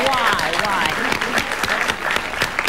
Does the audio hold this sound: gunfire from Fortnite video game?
no